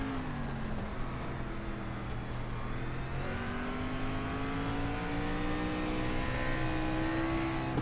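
SRX race car engine in iRacing, held high near its rev limiter on a dirt oval, a steady sustained whine that rises gradually, moderately loud and alone.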